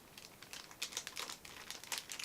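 Plastic anti-static bag for an Asus AMD PRIME B350M-A AM4 motherboard being handled, producing quiet, irregular crinkles and rustles in several bursts with no talking.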